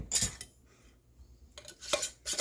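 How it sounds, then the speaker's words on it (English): Ball metal canning lids are set onto glass jars, producing a few quick, close metallic clinks and taps separated by short quiet gaps. "for these, I'm just using the ball lids. So we'll get those put on."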